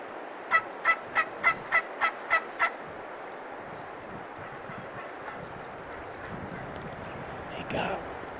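A wild Merriam turkey gobbles in the Wyoming mountains during a hunt, a rapid rattling burst of about eight pulses near the start, fairly close, followed by quiet wind and outdoor ambience.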